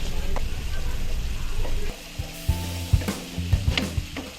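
Fish masala with tomato and chilli for lote fish jhuri chorchori sizzles loudly in oil, first a dense continuous fry, then quieter bubbling broken by sharp stirring clatters and scrapes in the pan.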